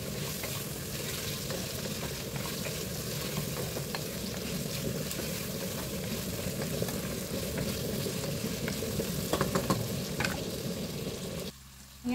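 Onions sizzling and frying in a pan for pancit while being stirred, a steady close crackle with occasional scraping clinks of the utensil, no voices.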